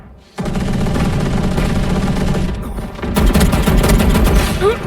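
Dense, continuous gunfire fills a shooter video game match, loud bursts running almost the whole time and growing heavier partway through, with no voices over it.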